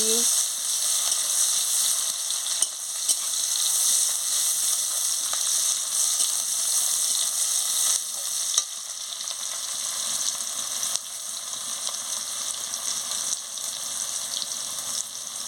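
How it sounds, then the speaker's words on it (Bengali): Chopped onion fries in hot oil in a pan, a steady, even hiss that carries on for the whole stretch with only slight shifts in level. "পেঁয়াজটাকে ভালো করে ভেজে নিচ্ছি"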